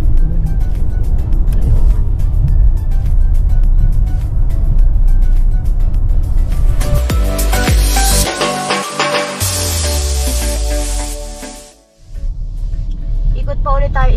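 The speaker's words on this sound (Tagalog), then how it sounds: "Meron ako naririnig doon na parang nagre-race." Racing cars lapping the Mount Panorama circuit at Bathurst, their engines a steady distant roar that swells as a car passes, heard under people talking.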